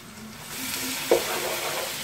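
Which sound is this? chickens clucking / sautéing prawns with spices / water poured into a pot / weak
sautéing prawns with spices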